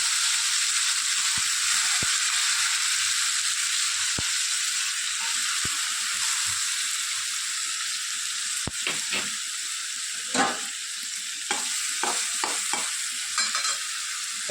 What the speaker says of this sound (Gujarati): એનામાં નાખીશું આપણે લસણ અને લીલા મરચાં, થોડી હિંગ.